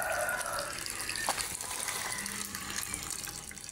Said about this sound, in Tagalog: naglalagay na siya ng tubig